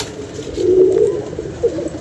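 Pigeons coo on a rooftop loft, with one throaty, rolling coo that swells in the middle and a shorter call near the end, heard nearby and with no speech.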